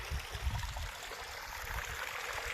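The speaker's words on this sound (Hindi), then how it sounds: "साफ पानी इतों थल्ला जा रहा है" Clean water flows down a rocky mountainside in Saudi Arabia, a steady nearby rushing and trickling with a low rumbling undertone throughout.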